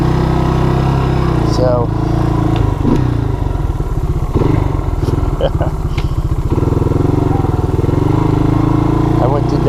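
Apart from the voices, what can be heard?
Yamaha DX225 ATC engine running with the choke on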